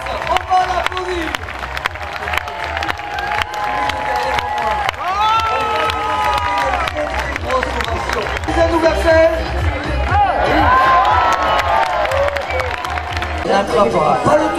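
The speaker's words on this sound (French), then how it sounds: "On va l'applaudir." A crowd in the stands at a course landaise bullfighting arena in Capbreton applauds and cheers, a loud sustained mass of clapping and voices with an announcer's voice carrying over it through a public address system.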